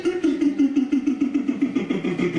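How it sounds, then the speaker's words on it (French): A tractor engine runs with a steady, rhythmic mid-range chug at moderate loudness throughout. "je suis sûr qu'elle a démarré déjà le tracteur"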